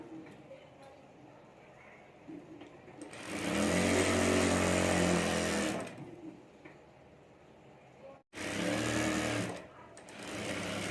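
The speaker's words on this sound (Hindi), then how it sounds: "और यहाँ भी हमें सिलाई कर देनी है।" A sewing machine stitches seams on a handmade zip-pocket bag, running in two loud, steady bursts of rapid mechanical whirring, one long and one shorter after a brief pause, with quieter handling and faint speech between.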